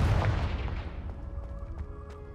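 A Confringo fire spell bursts in Hogwarts Legacy with a loud, booming blast that rumbles heavily at first and then rolls away into a decaying crackle.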